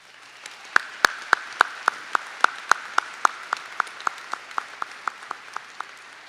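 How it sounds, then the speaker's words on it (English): Slow, sparse clapping at a nursing school college commencement honoring student veterans, a few distinct hand claps spaced evenly and tapering off over a faint hall ambience. "please join me, everyone, in a round of applause for them"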